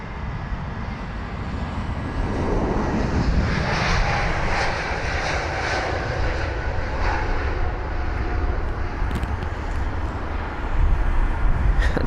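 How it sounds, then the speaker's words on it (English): A Lufthansa Airbus A320neo jet airliner passes at London Heathrow with a steady, broad roar that swells and holds, its engine whine audible over a constant wash of noise, fairly loud throughout. "Got the Lufthansa 320neo."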